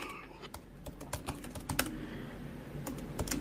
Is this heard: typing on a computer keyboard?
yes